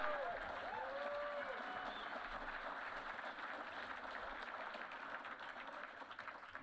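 Steady applause from an audience at an awards banquet, a dense wash of clapping that holds evenly for several seconds without fading, with faint voices mixed in.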